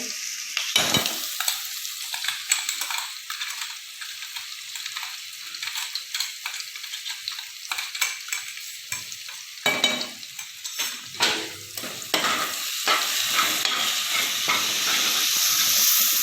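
Crushed peas and cumin stirred in a hot pan for Jain poha, with repeated spoon scrapes and clatters over a hissing sizzle that grows steadier and louder toward the end.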